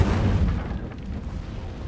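The Incendio fire spell blasts in Hogwarts Legacy as a deep, rumbling burst that starts loud and trails into a fading roar.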